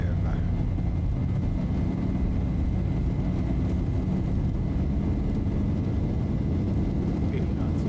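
A fixed-wing airliner's engines roar steadily during the takeoff roll, a dense continuous rumble heard from the cockpit with radio and crew voices over it.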